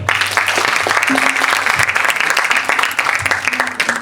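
A Bollywood romantic-hits concert audience applauds with dense, continuous clapping that fills the hall, while voices murmur faintly underneath.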